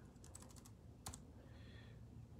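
Quiet typing on a computer keyboard: a quick burst of about six key clicks, then a single sharper keystroke after a short pause, faint over low room hum.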